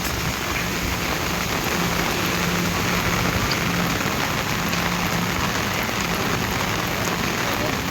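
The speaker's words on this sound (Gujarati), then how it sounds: "ફૂલ વરસાદ." Heavy rain pours in a dense, even hiss that stays loud and unbroken for the whole stretch, with no other clear sound.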